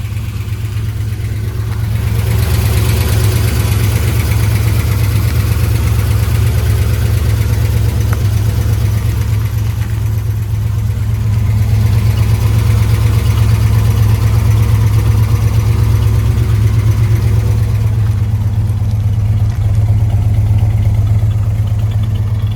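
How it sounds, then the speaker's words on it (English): A 1972 Chevrolet C10 Cheyenne short-bed pickup idles steadily with a factory-style muffler, giving a smooth, low, continuous engine rumble that stays fairly even throughout with only slight swells, and no one speaks. "Not real loud exhaust, more of a factory style muffler, but sounds good."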